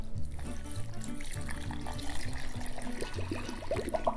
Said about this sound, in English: this makes a really fun like googly sound when the water goes down